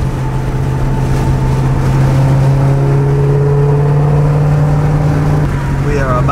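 A Ford Shelby GT500 tuned to run on E85 accelerates hard in a loud, sustained engine pull whose pitch rises steadily and then shifts near the end.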